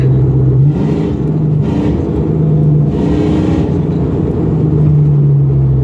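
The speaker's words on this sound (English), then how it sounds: "But it's a moving, driving car still." A Ford Mustang SN95 with a 4R70W automatic transmission, suffering an overdrive fault, drives along with a loud, steady engine drone whose pitch rises and falls slightly with gear and throttle changes.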